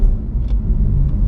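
BMW M2 engine and exhaust heard while driving, a steady loud low rumble that stays constant and close throughout, with no talk over it.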